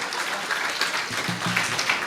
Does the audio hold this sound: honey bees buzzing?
no